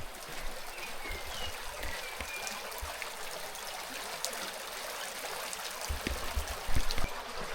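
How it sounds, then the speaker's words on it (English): A waterfall pouring beside a Madeira levada walk, making a steady, close rush and trickle of water, with a few low knocks and footsteps near the end and no talking. "So this is the Instagram waterfall."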